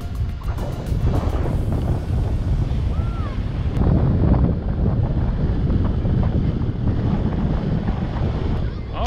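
Strong wind at a beach in Qatar, gusting to about 12 to 15, buffets the microphone in a constant roar, with surf and water noise mixed underneath throughout.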